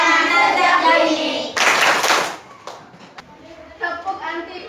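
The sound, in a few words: rhythmic clapping for an anti-corruption chant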